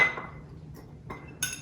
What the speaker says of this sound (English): we'll put that in here and then we'll give it a good stir